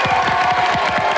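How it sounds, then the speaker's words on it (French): Studio audience on a French TV game show claps and cheers for the blue team, a dense, steady burst of applause close and full throughout, with crowd voices mixed in. "Ok, applaudissements pour les bleus."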